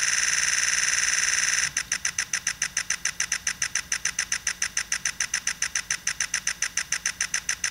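Nikon Z9 camera buffering onto a Sabrent CFexpress Type B card: a steady high-pitched whine for about two seconds, then a rapid, even stream of sharp clicking shutter-like pulses continuing to the end, with no voices.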